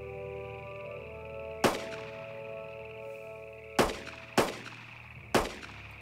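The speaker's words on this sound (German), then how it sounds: "Geh mit da schießen." Four sharp, loud gunshots ring out at irregular intervals in a WWII battle video game, cracking over a steady droning engine-like hum, with no talking.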